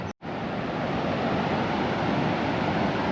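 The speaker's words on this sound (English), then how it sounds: "It's beautiful. Look at the waves." Ocean surf at Muriwai Beach on Auckland's west coast roars as a steady, loud, broadband wash of breaking waves with wind, alone and continuous after a brief cut at the start.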